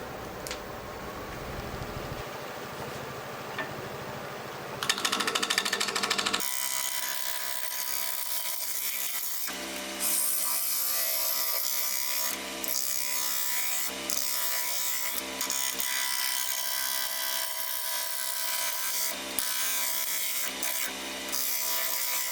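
Very hard wood turns on a lathe, giving a continuous scraping, rasping cut with a sharp change partway through and intermittent bursts as the tool works.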